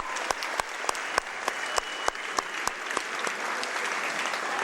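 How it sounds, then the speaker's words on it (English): A crowd in a high school basketball gym, Laurel Highlands at Uniontown, applauds with sustained clapping, and sharp individual claps stand out close by at irregular intervals. "Let's give them a round of applause."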